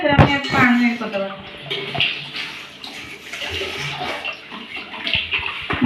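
Water poured into a hot pan of dhaba-style egg fry masala, a splashing, bubbling pour that fades into sizzling while a voice talks.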